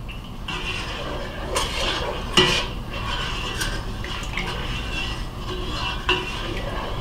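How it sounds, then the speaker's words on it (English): Stirring room-temperature brine for baby back ribs in a pot, with steady scraping and clinking of a utensil against the metal and a couple of sharper knocks, close and fairly loud. "So I'm just giving it another stir, make sure everything's well mixed up."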